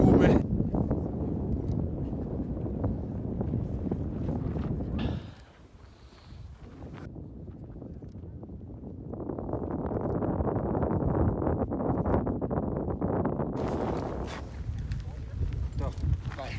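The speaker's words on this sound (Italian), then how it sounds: "c'è un vento forte, un freddo apocalittico" Strong, cold wind buffets the microphone outdoors on a Hawaiian beach at sunset, a steady rushing roar that dips briefly midway and surges again, with people talking over it.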